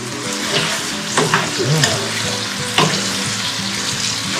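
Food is refried in a little cooking oil in a pan, giving a loud, continuous sizzle with occasional stirring scrapes and pops close by, and no voices.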